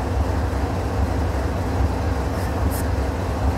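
A slow-moving train engine rolls past, giving a steady deep rumble with a low, throbbing drone that holds even and continuous throughout, with no voices.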